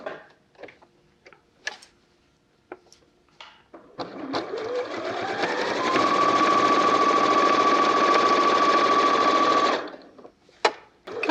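Sewing machine running steadily for several seconds as it stitches double-sided fabric wipes, starting up from brief handling noises and then humming at constant speed before stopping.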